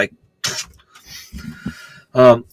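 A person with a dry throat coughs, with a short cough near the start and a stronger, louder one near the end, separated by quieter throat and breath noises close to the microphone.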